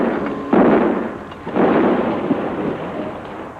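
Miniature depth charge explosions set off in a large water tank with a glass camera window, two deep rumbling bursts about a second apart, each swelling and then fading into a lingering low roar.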